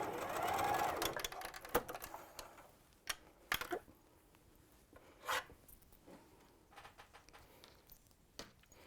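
A sewing machine stitches quilt patchwork in short bursts of running and ticking, with pauses and soft rubbing of fabric between runs, fairly quiet and close.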